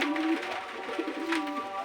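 A single female Hazariwala-breed pigeon gives a soft, throaty coo, rising and falling in a short rolling phrase, heard close and fairly quiet.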